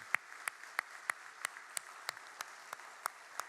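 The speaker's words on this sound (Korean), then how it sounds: "우리에게 새해를 주신 하나님께 감사의 박수를 드리겠습니다." Faint, sparse clapping in a church at a New Year's Eve worship service, a steady series of single claps about every third of a second over a soft background of scattered hand claps.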